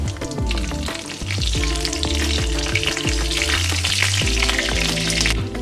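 Dried red chilli, panch phoron and nigella seeds sizzling in hot oil, a loud, dense crackle close up, with irregular metallic clinks and low thuds from the pan running under it.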